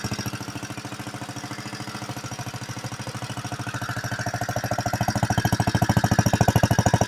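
An 81-year-old Briggs & Stratton NR6 small engine runs with a rapid, regular chugging beat, growing louder and stronger toward the end.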